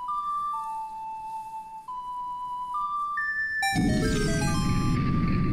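A melody played on an ocarina in the Ocarina of Time video game: a slow, clear melody of a few sustained notes, then a bright cascading chime flourish as the song is completed, with no speech.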